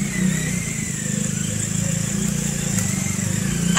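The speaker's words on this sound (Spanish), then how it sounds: "¡Apreta el acelerador!" A motorcycle engine revs steadily close by as the throttle is held open, a continuous throbbing drone with a higher whine above it.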